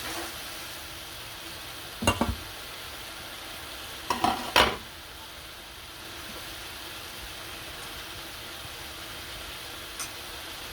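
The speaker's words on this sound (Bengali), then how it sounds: "এখন আমি এ পর্যায়ে মাছ দিয়ে দেবো। মশলাটা কষানো হয়ে গেছে প্রায়" Spice paste for a boal fish curry fries in a pan with a soft, steady sizzle, and a few scraping stirs come in short bursts.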